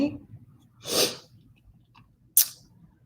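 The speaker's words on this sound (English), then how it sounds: "I think I'm going to sneeze" A single person's sneeze, a sharp breathy burst near the middle followed by a quick sniff or snort, close and fairly quiet against a soft room background.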